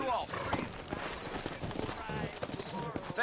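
Horses clip-clopping in the Western video game Red Dead Redemption, a steady patter of hooves under a dense bed of game sound and ambience, with no clear talk over it.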